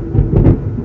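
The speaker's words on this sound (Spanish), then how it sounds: "Si escuchan esos relámpagos" Low, muffled thunder rolls briefly from a lightning storm in north Texas, swelling once in the middle before settling, with no voices.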